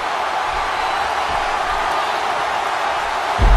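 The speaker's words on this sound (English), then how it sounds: "Would you listen to this crowd show their appreciation for these amazing competitors?" A wrestling crowd cheers and applauds the competitors at an Anarchy 57 match, a steady wash of loud cheering and clapping that swells near the end.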